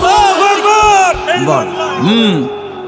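A large crowd loudly chants the takbir slogan in unison at an Islamic religious sermon gathering, with repeated rising and falling shouted calls that swell together, close and dense.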